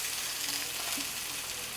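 Homemade croutons and vegetables frying in a pan, a dense continuous crackling sizzle that holds steady and fairly loud throughout, with no voices.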